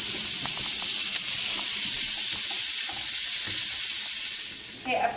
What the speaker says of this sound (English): I'm just going to saute that till it's lightly caramelized